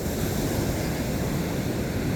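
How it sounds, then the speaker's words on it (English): Glassy ocean waves at Rosarito Beach, a steady wash of surf with a soft, constant roar and some wind across the microphone, moderately loud and unbroken for about two seconds. "glassy waves"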